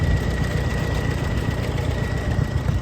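A Farmall M tractor engine idles with a steady, low, rumbling chug and slight vibration, loud and close, running continuously without talk.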